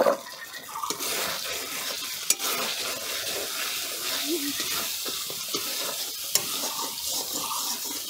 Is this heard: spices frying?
yes